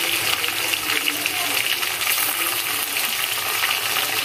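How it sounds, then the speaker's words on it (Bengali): Ginger, garlic and cumin paste frying in a pan for a beef dish, a continuous bright sizzle with stirring scrapes, steady and close, no talk. "এখন আমি মশলাগুলো একটু ভালো করে ভেজে নেব।"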